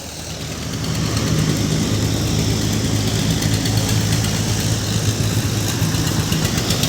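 A 1997 Mahindra 275 tractor at a tractor market idles with a steady, loud, low mechanical hum and rapid even throb that swells up within the first second and holds constant.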